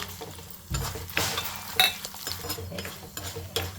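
Dried red chillies frying in a pan with urad dal and chana dal, a soft sizzle under repeated scraping stirs of a spoon, close and fairly quiet.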